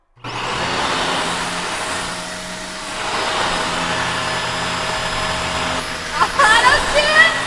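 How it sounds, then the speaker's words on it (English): A household vacuum cleaner drones steadily with heavy added reverb, a continuous broadband whir with a sustained tone, briefly dipping in the middle and growing rougher near the end, while a person talks over it. "It's a vacuum!"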